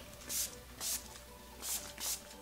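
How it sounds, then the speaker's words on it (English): Four short hissing bursts of Motives 10 Years Younger setting spray mist, evenly spaced and close by, with quiet pauses between them. "last step is just gonna set it down with my Motives 10 Years Younger setting spray"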